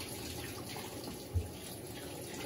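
A Panasonic cyclone-system 14 kg washing machine tumbles bedding in water, a faint steady sloshing churn with one soft thump partway through, no voices.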